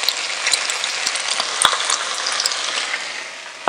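Chopped adobo chili peppers fry with onions in a pan, a loud, steady crackling sizzle that continues throughout, with light stirring clicks and no talk.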